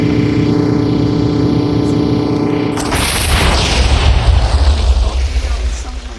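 A minecart loaded with TNT exploding in Minecraft: a droning tone cuts off into a sudden loud blast followed by a long rumbling, crackling roar that gradually trails off.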